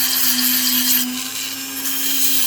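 A Dremel rotary tool polishes the face of a rough opal picture stone, giving a loud, steady high-pitched whine that dips slightly midway and holds its grinding tone throughout with no voices.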